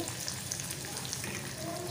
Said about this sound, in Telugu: సన్నగా కట్ చేసుకున్న ఒక ఆనియన్ వేసుకోవాలి।